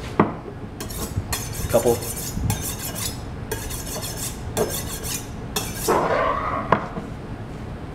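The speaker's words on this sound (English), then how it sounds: "This is how you sharpen knives." A kitchen knife is sharpened with repeated short metallic scraping strokes in rhythmic bursts, interspersed with a few clinks and a brief spoken phrase.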